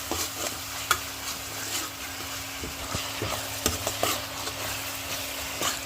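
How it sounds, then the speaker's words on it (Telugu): A spoon scrapes and stirs masala through fish curry in a hot pan, a steady sizzle under irregular clinks and scrapes, close and moderately loud with no talking. "మసాలా వేసుకొని కలిపేసేసుకోవాలి బాగా"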